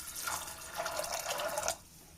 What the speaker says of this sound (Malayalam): ഇനി നമുക്ക് പാകത്തിന് വെള്ളം ഒഴിച്ച് കൊടുക്കാം